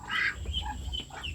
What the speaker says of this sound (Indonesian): entok